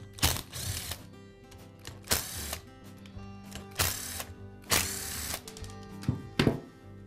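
Screws come out of the rear cap of a DeWALT hammer drill in a series of about six sharp bursts of ratcheting, clicking driver noise a second or so apart, close up with no talk.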